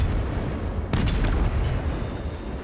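A cannon fires in the strategy game Total War: Warhammer 3, giving one sudden loud boom followed by a rumbling decay over steady battle ambience.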